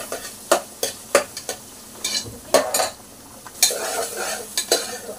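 Onions frying and being stirred in a pan for a goat-lung curry, with a steady soft sizzle broken by repeated scraping strokes and occasional clinks of a spoon against the metal, close and fairly quiet, no talking.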